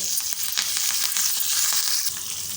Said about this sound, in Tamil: லேசாக வேர்க்கடலை வெடித்து வர ஆரம்பிக்குது பாருங்கள் கடுகு சேர்த்துக்கலாம்